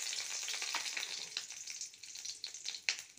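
Dry red chili, bay leaf and five-spice seeds crackle in hot oil, a steady bright sizzle with scattered sharp pops and spits, close and moderately loud, with no voices.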